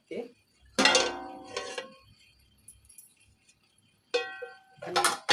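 A frying pan is set on a gas stove to fry fish, giving a few close metallic clanks and clatters of cookware, separated by quiet pauses.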